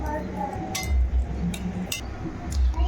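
Soaked, drained coconut shavings and raisins are stirred into malpua batter in a bowl. A low, steady churning runs throughout, with a few bright spoon clinks against the bowl close by.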